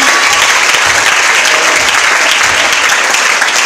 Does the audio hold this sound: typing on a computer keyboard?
no